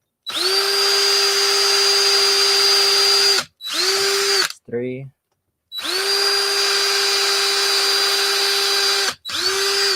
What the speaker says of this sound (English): drilling through plexiglass is a very harrowing experience